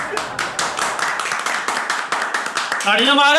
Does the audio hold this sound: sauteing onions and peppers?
no